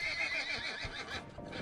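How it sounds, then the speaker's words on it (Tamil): A horse being taught to jump neighs in a loud, shaky whinny that carries across the whole short moment, with a few hoof thuds underneath. "இந்த அக்கா குதிரைக்கு எப்படி தாண்டணும்னு சொல்லி தராங்களாம்"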